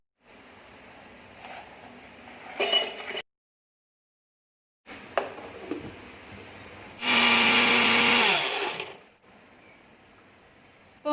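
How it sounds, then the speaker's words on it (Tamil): A mixer grinder grinds bourbon biscuits in short loud bursts, with a sharp rattling whir, a silent pause, then a longer sustained grinding burst that winds down. "இப்போ நம்ம பிஸ்கெட்டை வந்து நம்ம இப்போ அரைச்சி எடுத்துகிட்டு வந்துடலாம்."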